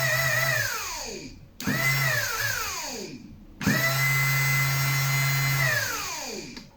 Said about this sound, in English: This is our motor.